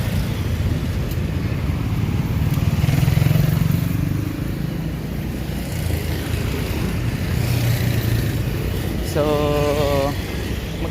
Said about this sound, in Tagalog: So napakarami ng motor ngayon.